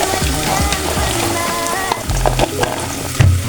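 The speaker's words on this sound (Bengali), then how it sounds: "এখন আমি এটা ভালো করে ভেজে নেব" Whole spices, white cardamom, cinnamon, bay leaves and a spice paste with green chillies frying in hot oil for a Bengali new-potato dum, a steady loud sizzle with crackles and occasional stirring clatter, close up.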